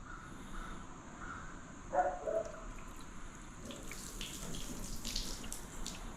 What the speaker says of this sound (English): So let's see what happens when you dump some water on it.